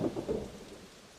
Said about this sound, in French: Le lendemain, il pleut